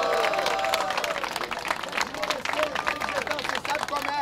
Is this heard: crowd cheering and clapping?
yes